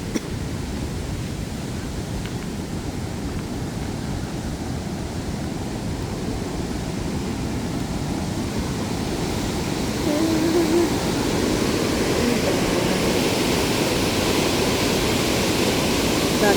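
Huka Falls waterfall near Taupo, New Zealand, a powerful continuous roar of rushing water, steady and broadband, growing slightly louder partway through, with no clear talk.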